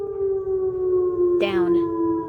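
An Oklahoma civil defense tornado siren wails steadily at a distance, a sustained tone, while a person briefly speaks over it midway.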